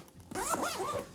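Zipper on a KNKG waxed canvas bag drawn open in one smooth, continuous pull lasting about a second, close and fairly loud, with no talking.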